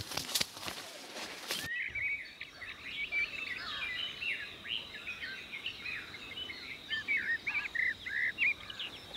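Several birds chirp and trill in quick bursts throughout, fairly close, over a steady outdoor hiss after a brief noisy rustle at the start.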